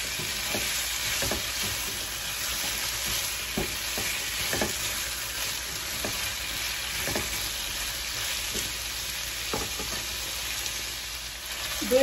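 Mixed winter vegetables, including papaya, sauté in a pan with a steady sizzle. A spoon scrapes and stirs them at irregular intervals, close and clear, with no talking.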